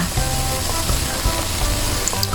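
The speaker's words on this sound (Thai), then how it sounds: "ผัดให้อกไก่สุกเลยค่ะ" Chicken breast, about 300 grams cut into pieces, stir-fries in a pan with garlic, giving a steady, fairly loud sizzle with scattered crackles and the occasional scrape of a utensil, with no voice over it.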